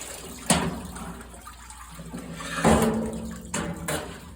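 Water splashes and runs over freshly destemmed elderberries during a second wash, with a few louder sloshing bursts of pouring and swirling close by over a low background.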